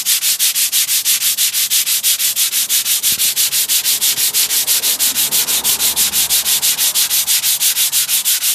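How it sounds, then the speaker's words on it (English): Sandpaper rubbed by hand over a carved stone sculpture, loud rhythmic back-and-forth rasping strokes at a steady, quick pace, close up with no voices. "Then you do it with the sandpaper."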